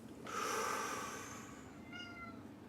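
A cat lets out a long drawn meow followed by a shorter second one, close by and moderately loud over a quiet room.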